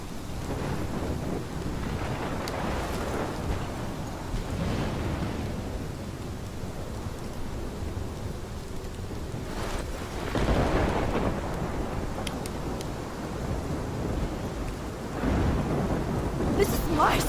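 A thunderstorm with rain in Life is Strange: a constant heavy hiss of rainfall with low, rolling thunder swelling and fading several times, loud and continuous throughout.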